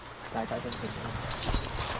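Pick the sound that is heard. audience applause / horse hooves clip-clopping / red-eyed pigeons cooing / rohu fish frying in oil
horse hooves clip-clopping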